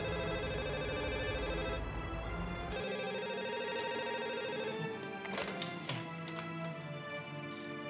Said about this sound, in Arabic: اهو التليفون بيرن